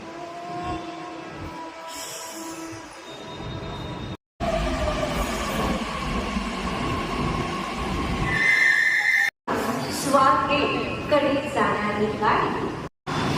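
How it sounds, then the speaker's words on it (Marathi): A Pune Metro train rumbles into the station with a loud whine and rising squeal of wheels, a steady mechanical roar, while people talk over it. "आमची सुद्धा मेट्रो आली आहे"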